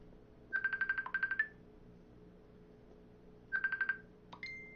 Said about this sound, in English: I cannot answer that phone call.